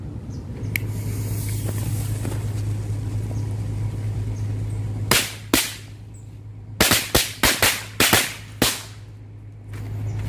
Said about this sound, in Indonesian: sekarang kita cobain petasan double bang with smoke